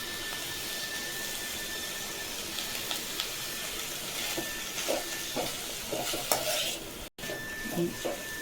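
Drumstick leaves with grated coconut stirred in a frying pan, a steady soft sizzle with repeated scraping and clinking of a spatula against the metal pan, close and fairly quiet.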